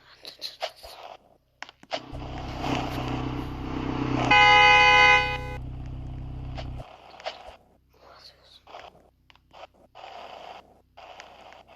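A car horn blares once for about a second over a low engine hum, with muffled voices and rustling before and after.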